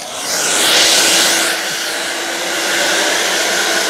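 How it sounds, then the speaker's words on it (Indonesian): A hair dryer drying a screen printing film blows with a continuous loud whooshing roar, swelling slightly early on and then holding steady, with no talking. "Kemudian kita keringkan dengan menggunakan hair dryer."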